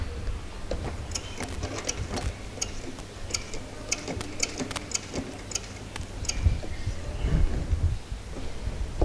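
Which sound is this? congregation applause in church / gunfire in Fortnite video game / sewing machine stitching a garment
sewing machine stitching a garment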